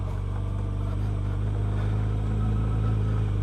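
Yamaha FJR1300 street bike on street tires riding a recently graded loose gravel road: a steady, loud engine drone with a low rumbling hum, constant for a few seconds.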